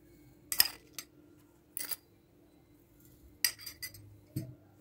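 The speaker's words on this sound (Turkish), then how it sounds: "Ve 1 tatlı kaşığı toz şekerimi ilave ediyorum." Granulated sugar spooned from a dessert spoon into glass jars, heard as a few scattered light clinks and scrapes of metal against glass, fairly close and quiet, with short pauses between them.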